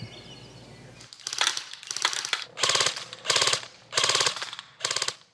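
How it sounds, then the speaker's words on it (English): Six sharp gunshots from sharpshooting practice crack out loudly and close by, evenly spaced with brief gaps between them. "Holding the gun is Cindy Calzada, a public servant when she's not sharpshooting"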